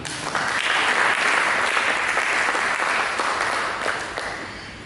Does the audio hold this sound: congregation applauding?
yes